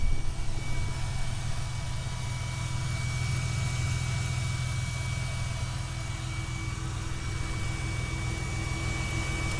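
A 1999 Porsche 911 Cabriolet engine idles with a steady, even low hum and a faint constant whine, close and unbroken throughout with no voices.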